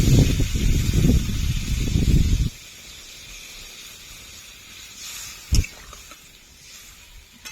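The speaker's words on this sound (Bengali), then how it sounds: "এখন গরম জল দিয়ে দেবো" Hot water poured into a pan of frying soybean and potato curry gives a loud, rough hiss and sputter for about two seconds. It then drops to a faint simmer, with one brief clatter near the end.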